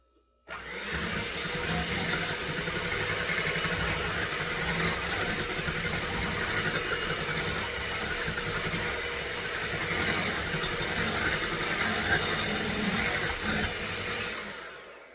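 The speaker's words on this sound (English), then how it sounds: "I'm going to take my little hand mixer here" An electric hand mixer whirs continuously at close range for several seconds, a steady buzzing motor noise that starts abruptly and stops near the end.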